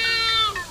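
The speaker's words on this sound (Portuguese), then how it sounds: "A Karina achou um gato aí." A cat lets out a single clear, drawn-out meow close by, outdoors during a road trip in Portugal, loud and alone with no talking.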